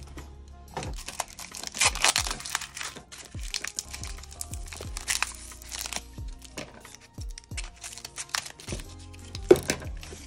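A small taped-up bag of nail supplies is opened by hand, producing close, steady plastic crinkling and tearing with small clicks and no talk.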